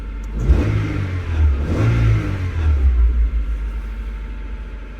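A 1996–2000 Honda Civic engine running rich while warming up gives a steady low rumble with a couple of gentle swells, fairly close and alone with no talking.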